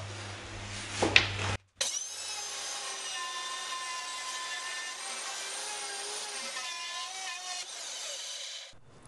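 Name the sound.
router bit cutting hinge recess in wood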